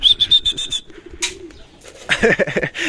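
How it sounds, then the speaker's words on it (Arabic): Pigeons cooing close by, with a brief burst of wing flapping as they take off mid-way, then more bird calls and chirps. "الحمام اهو قام والله العظيم اول مره يقوموا"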